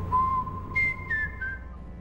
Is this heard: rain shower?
no